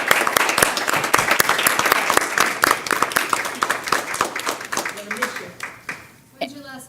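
Applause at a school district governing board meeting, a moderate number of people clapping with distinct individual claps that thin out and trail off, followed by a voice beginning to speak.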